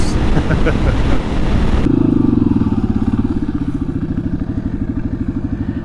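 Honda CRF300L motorcycle cruising on an open road at 60-65 mph in 6th gear, loud steady engine drone with a rhythmic pulsing thump and heavy wind rush, the tone shifting abruptly partway through.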